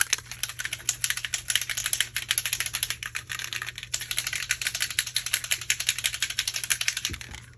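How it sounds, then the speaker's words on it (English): Tim Holtz Mica Stain spray bottle, Tart Cranberry, shaken hard: a fast, steady rattling clatter of the agitator ball inside, close and continuous for several seconds over a faint hum. "We got to shake it up first and loosen up all that mica."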